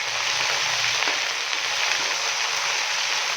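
Ginger, garlic and green chili paste frying with mutton in a pot, a dense, even sizzle held close and steady without any voices.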